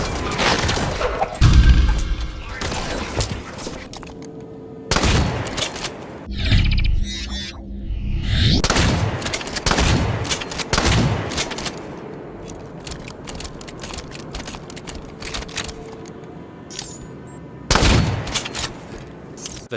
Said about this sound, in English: That new shot sound though